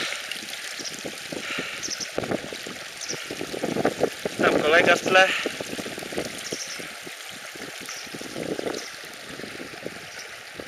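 A small stream flows through the Icelandic countryside with a soft, continuous burble and hiss. Someone talks briefly over the water, and there are light wind bumps on the microphone.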